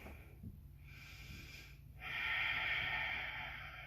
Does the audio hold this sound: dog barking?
no